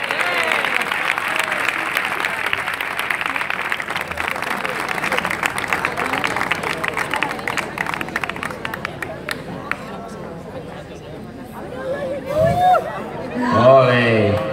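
Festival crowd at a Spanish village fiesta applauding and cheering in a dense, steady wash of clapping and chatter, thinning toward the end as louder shouts and voices break through.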